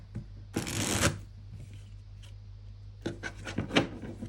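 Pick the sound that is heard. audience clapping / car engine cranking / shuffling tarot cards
shuffling tarot cards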